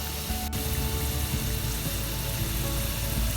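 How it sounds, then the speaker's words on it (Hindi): Kadhi pakoras frying in hot oil, a steady close sizzle and crackle running throughout with no talk. "अब इनकी ये साइड भी अच्छी तरह फ्राई करेंगे"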